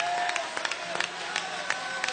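A church congregation at a worship service in Sorocaba claps and applauds, a dense crowd of hand claps with a few sharper peaks, carrying on without a break across the short stretch.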